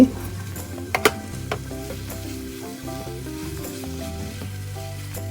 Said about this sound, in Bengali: এরপর আমি এখানে আর মিক্সড সবজিগুলো ঢেলে দিচ্ছি